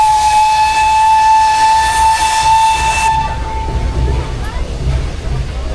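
A 1917 steam locomotive numbered 434 blows its steam whistle, a loud steady shrill tone with hissing steam that lasts about three seconds, then cuts off, leaving rumbling and steam hiss.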